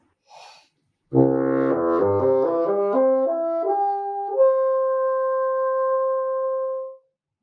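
A bassoon plays a descending run of notes, then holds a steady sustained tone for several seconds, alone and fairly clear.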